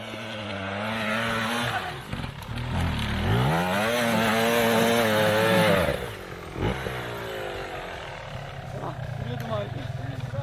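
A T250 two-stroke dirt bike comes closer with a loud, rising and falling engine whine that swells and then drops away. Voices talk over it throughout.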